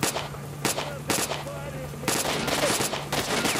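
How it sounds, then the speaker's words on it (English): Gunshots in S.T.A.L.K.E.R. Shadow of Chernobyl crack out loud and close, a handful of sharp single shots spaced unevenly, some followed by quick bursts, with someone talking in between. "And I'm going to shoot you"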